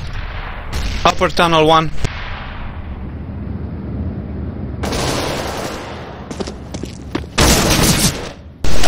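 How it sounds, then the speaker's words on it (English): A grenade explosion and gunfire in Counter-Strike: Global Offensive, with a loud blast followed by sharp bursts of shots, mixed with brief radio-style voice callouts. "Grenade out. Grenade out."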